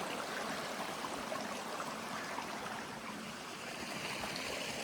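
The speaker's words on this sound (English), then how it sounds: "I just kept following one of the rivers nearby" A river flows nearby in Redwood National and State Parks, a steady broadband rush of moving water that stays constant and fairly close with no voices.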